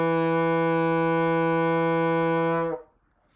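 A bassoon sustains a single steady E, a reedy, buzzy tone held evenly for under three seconds before it stops cleanly, with no other sounds.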